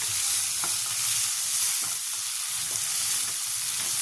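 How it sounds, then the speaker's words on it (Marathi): Tomato frying on full gas with green chilli and crushed garlic, a loud, dense, even sizzle close up, with faint intermittent stirring scrapes and no voices. "टमाटर छान फिरायचं फुल गॅस ठेवायचं"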